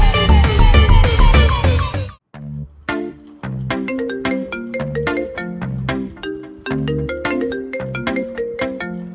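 A phone ringtone for an incoming call sounds as a loud, busy electronic melody, a dense burst for about two seconds, then a steady run of bright repeating tones that lasts the rest of the clip. No one speaks over it.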